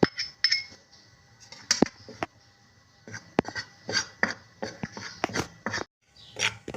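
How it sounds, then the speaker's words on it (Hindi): A spoon clinks and scrapes against a frying pan as gram flour (besan) is dry-roasted, with quick irregular metallic taps and scrapes heard close up and alone. "2 चम्मच हमने बेसन डाल के फ्राई पैन में इसको भून लेना है।"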